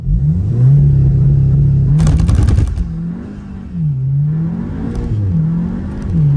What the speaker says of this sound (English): This is launch control in my stage 859 Golf GTI TCR